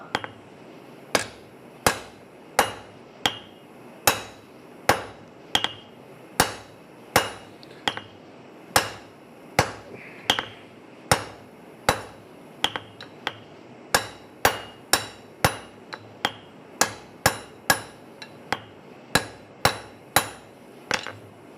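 A hammer strikes hot metal at a coal forge during knife and tool forging, steady ringing blows at a regular pace over twenty seconds, loud and close with no talk.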